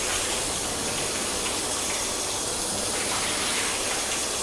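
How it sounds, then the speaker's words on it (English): Water gushes and runs off the waxed panel of a car, a steady, dense hiss of spray and runoff that stays constant and fairly close throughout, with no voices. "Extremely hydrophobic still, and water running straight off."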